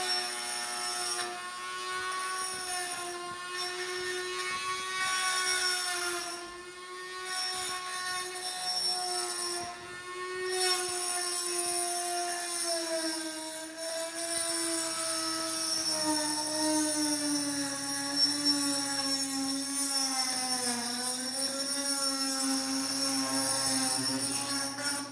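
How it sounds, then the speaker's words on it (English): A Dremel rotary tool cleans up metal edges while a Titan DMWR135 54-inch drum mower is assembled. Its continuous high whine wavers in pitch throughout, with no talk. "I'm gonna take a Dremel tool and just kind of clean up the edges."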